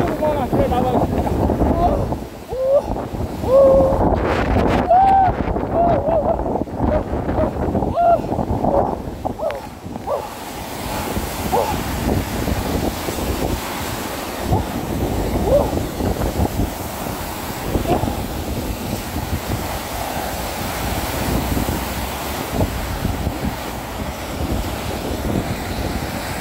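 Typhoon Maysak brings heavy wind and rain outside Jeju Airport, a continuous roaring rush of gusts buffeting the microphone with a dense hiss of rain. It is loud and close throughout, with a reporter's voice heard faintly under it.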